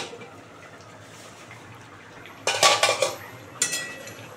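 A cooking pot lid over prawns and bottle gourd greens is lifted after five minutes of steaming, a couple of loud close metallic clanks and rattles after quiet kitchen ambience, then one more clank.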